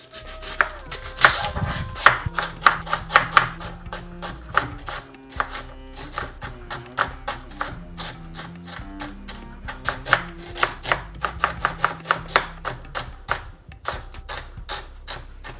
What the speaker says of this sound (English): just going to finely chop 1 medium-sized onion